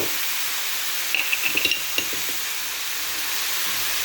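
Bella mushrooms sizzle in olive oil with a steady soft hiss and a brief cluster of small pops and clinks from stirring, close and without talk.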